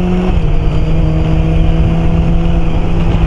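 A car rolls along a road toward a motorway on-ramp, its engine humming steadily with a low, even tone and road noise, close and constant.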